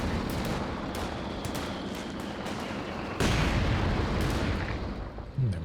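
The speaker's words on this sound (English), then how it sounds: "The mortar's been getting a couple good hits, hasn't it?" Mortar and battlefield fire in the World War II strategy game Company of Heroes 2, a dense steady din of shots and impacts with a sharper louder blast partway through, continuous and fairly close.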